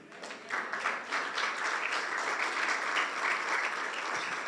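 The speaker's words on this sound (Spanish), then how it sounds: "Qué bonito aplaudió, hermano, y así como aplaude de su salario diezma." A church congregation applauds at moderate distance, the clapping swelling quickly after a brief start and continuing as an even, thick patter throughout.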